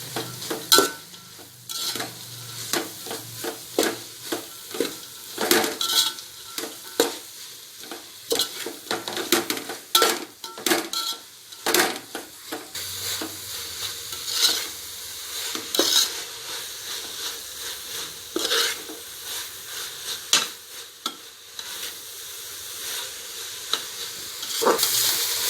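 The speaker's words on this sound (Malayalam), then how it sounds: "ഇനി നമുക്കിത് ഉള്ളി നല്ല വഴണ്ട് വന്നിട്ടുണ്ട്." Onions sautéing with salt in a pan for Kerala-style Thalappakkatti chicken biryani, a steady sizzle broken by repeated sharp scrapes and clinks of a spoon stirring against the pan, close and with no voices.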